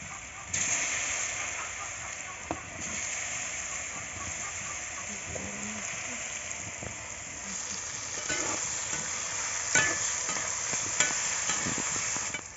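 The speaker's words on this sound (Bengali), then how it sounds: "মাছ ভাজা তেলের মধ্যে এখন আমি ওলগুলো ছেড়ে দেব।" Elephant foot yam pieces fry in oil left over from frying fish, stirred in the pan: a steady close sizzle runs throughout, with scattered scraping clicks from the stirring and a few sharper crackles.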